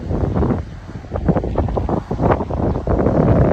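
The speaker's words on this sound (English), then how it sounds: "It's a bit windy. Not too bad, but you'll hear it more so than probably the water." Steady wind buffeting the microphone, a constant low rumbling roar with gusty swells throughout, and no voices.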